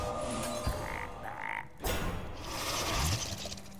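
Frog card being played in the video game Hearthstone, giving croaking sounds mixed with a sharp crack and a shattering burst midway, followed by more game effect noise.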